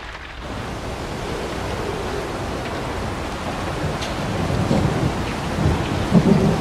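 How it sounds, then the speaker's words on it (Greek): Steady heavy rain pours through the night while low thunder rumbles beneath it, swelling louder toward the end, with no voices present. "Η νύχτα κυλά και η βροχή συνεχίζει."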